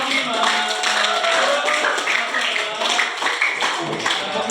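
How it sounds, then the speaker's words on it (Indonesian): Classroom applause for a student group during a school lesson, a busy patter of hand claps from a room of students, steady and fairly close for several seconds with voices mixed in. "beri tepuk tangan buat kelompok"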